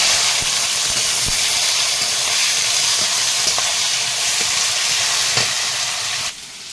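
Chopped onion dropped into hot oil with whole cumin, whole garam masala and bay leaf, cooked outdoors over coal in the Sundarbans; a loud, steady sizzle and hiss with sharp crackles and utensil knocks, fading slightly at the end.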